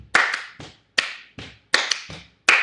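Sharp, close hand claps come in an uneven rhythm, roughly eight crisp claps with short pauses, some of them paired in quick doubles, and nothing else plays in the background.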